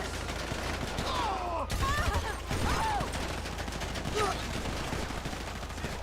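Game gunfire in GTA V rattles steadily through the whole stretch as bursts of shots, with a voice speaking over the action in places.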